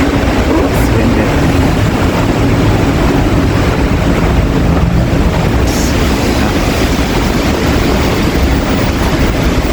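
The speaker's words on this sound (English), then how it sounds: "We're going outside. It's windy." Steady, loud wind roaring across an open cruise ship deck at night, a dense rushing wash with low rumble and no pauses throughout.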